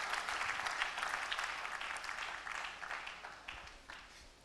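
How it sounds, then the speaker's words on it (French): A church congregation at a Sunday service in Brazzaville gives a long round of applause. The dense clapping from many hands holds steady at a moderate distance and slowly tapers off toward the end. "And give God a big hand of praise."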